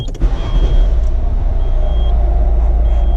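A Nissan Maxima engine, just fitted with a new fuel pump, catches after cranking and settles into a steady, close, rumbling idle with no voices over it.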